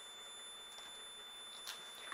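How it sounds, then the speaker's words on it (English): A digital multimeter gives a continuity-test beep while checking a wire through gator-clip leads: a faint, steady high-pitched tone that holds for the whole stretch, with a few soft clicks near the end. "you'll see that my meter will start to beep"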